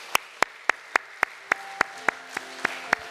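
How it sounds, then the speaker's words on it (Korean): A church congregation claps to welcome a speaker at a Friday prayer meeting, sharp claps in an even, regular beat, about one every quarter second, with a faint sustained tone underneath. "우리 인사하실 때 우리 박수로 우리 맞이하겠습니다."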